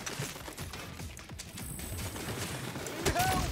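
Gunfire in the Saints Row video game, a busy stretch of rapid shots and impacts mixed with clatter and crashing effects, fairly loud throughout and swelling near the end.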